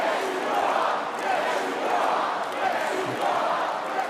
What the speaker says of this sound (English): The crowd chanting, "Yes, you are."